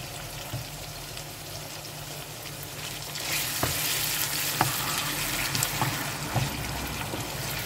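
Minced meat filling sizzles and fries in a pan as chopped kačkavalj cheese is tipped in, a steady close crackle that brightens and thickens partway through, with a few soft stirring knocks and no talk.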